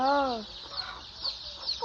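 A hen gives a few rising, tonal calls up close, followed by softer clucking and chatter in the background.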